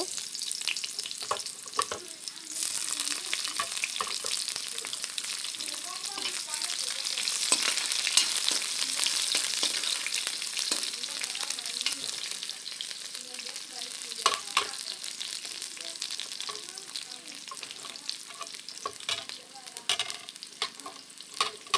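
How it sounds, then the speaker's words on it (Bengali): Cumin, dried chili, bay leaf and chopped onion frying in hot oil make a continuous loud hiss, with scattered crackles and occasional light utensil scrapes, close up and without talk. "আমি বাগারে দিয়ে দিচ্ছি জিরে, শুকনো লঙ্কা, তেজপাতা। কুচানো পেঁয়াজটাও দিয়ে দিব।"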